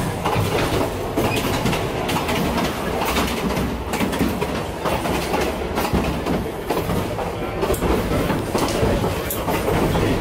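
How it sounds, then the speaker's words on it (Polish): A Thai State Railway train rattles and clatters over tracks in poor condition, a continuous loud clickety-clack with jolting knocks heard from aboard, and faint birdsong in the background. "fatalny stan torowisk powoduje to, że telepie jak podczas przejażdżki kolejką górską"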